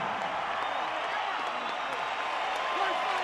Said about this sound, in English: one last round of applause for a true Mexican boxing legend